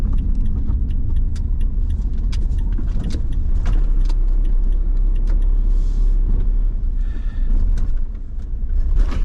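A car pulls up and parks, heard as a steady low engine and road rumble from inside the vehicle, with faint jangling and light clicks over it and no voices.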